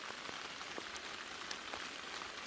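Rain falls steadily through a deep forest during mushroom picking, a faint, even hiss of drops on leaves and ground with scattered closer patters.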